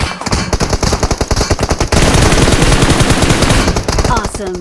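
Rapid automatic gunfire in the video game PUBG Mobile, loud and close, with fast regular bursts of shots that run nearly continuously and a brief pause near the end.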